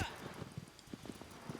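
Hooves clip-clop in irregular, moderately close steps as a horse moves through Shadow of the Colossus, accompanied by light background noise.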